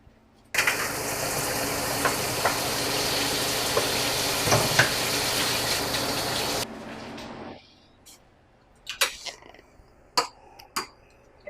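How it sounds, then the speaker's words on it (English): Cold tap water pouring steadily over cooked codfish for several seconds, a loud hissing gush that stops abruptly, followed by scattered clinks and handling noises. "We're going to run some cold water on it so it stops cooking"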